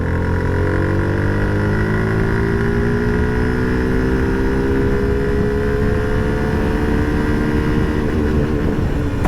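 Suzuki Gixxer 150 motorcycle engine pulling in fourth gear while riding, a loud continuous drone whose pitch climbs slowly as speed builds, with wind rush underneath.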